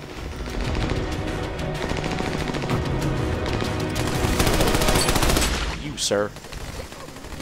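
Heavy automatic gunfire in Army of Two: The Devil's Cartel, loud and continuous for several seconds, with a brief spoken phrase over the shooting.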